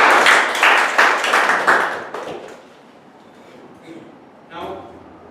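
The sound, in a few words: audience applause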